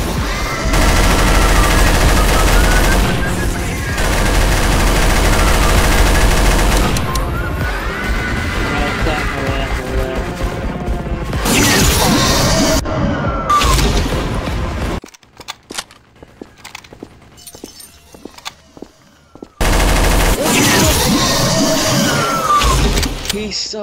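Gunfire in the video game Garry's Mod, with loud dense bursts of automatic shots and chaotic game noise across long stretches, broken by a short quieter gap before the shooting resumes.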